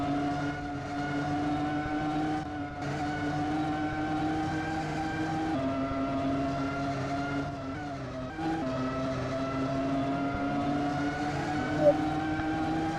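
Formula 1 race cars in a Roblox racing game, a steady blended engine drone from several cars bunched together, with shifting pitch as they brake and accelerate into a corner, continuous and fairly loud throughout.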